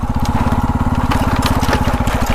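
A motorbike engine runs close by with a steady, rapid low thumping pulse, loud and continuous, with no voices.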